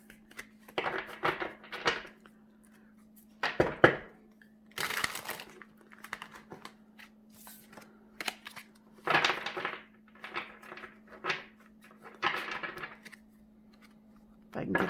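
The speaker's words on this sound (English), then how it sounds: "If I can get the cards to shuffle." Tarot cards shuffled by hand during a card reading, coming in short bursts of riffling and slapping, close and separated by pauses, with a steady low hum underneath.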